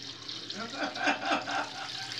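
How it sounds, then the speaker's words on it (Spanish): Tap water runs briefly to wet a razor for shaving a beard, a soft splashing flow that swells in the middle and fades, heard close with no talk. "lo mojamos con agüita"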